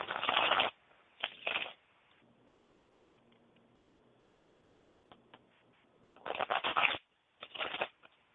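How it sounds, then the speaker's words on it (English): A deck of cards is shuffled close by in two rounds, each a fast riffling burst, with quiet gaps between them. "let me shuffle"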